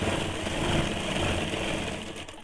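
Sewing machine running steadily while stitching around the hem of a heavy petticoat, a continuous close mechanical whir with a fast, even stitching rhythm that stops near the end.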